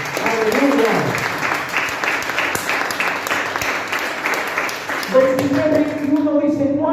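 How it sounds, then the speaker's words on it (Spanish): A church congregation gives loud, sustained applause, with many hands clapping through most of the span, as a voice speaks at the start and again at the end. "denle un fuerte aplauso al Señor"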